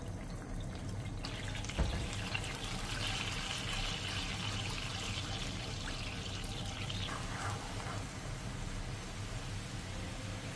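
A soy-based sauce of water, soju, soy sauce, plum extract, oyster sauce, minced garlic and corn syrup bubbles in a pan over high heat, with a steady close hissing and bubbling throughout.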